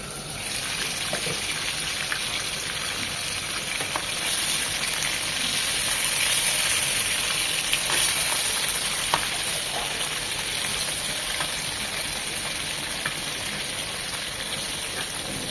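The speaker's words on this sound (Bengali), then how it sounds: "খুব বেশি মানে কড়া করে ভাজবো না, জাস্ট 1 মিনিট করে একটু একটু ভেজে নেব।" Fish pieces shallow-frying in hot oil in a pan, giving a steady, dense, loud sizzle that holds throughout with faint crackles and no voices.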